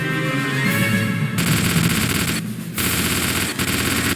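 Loud, sustained automatic gunfire from the Starship Troopers: Outpost 29 video game, continuous rapid bursts with a short pause before the firing resumes.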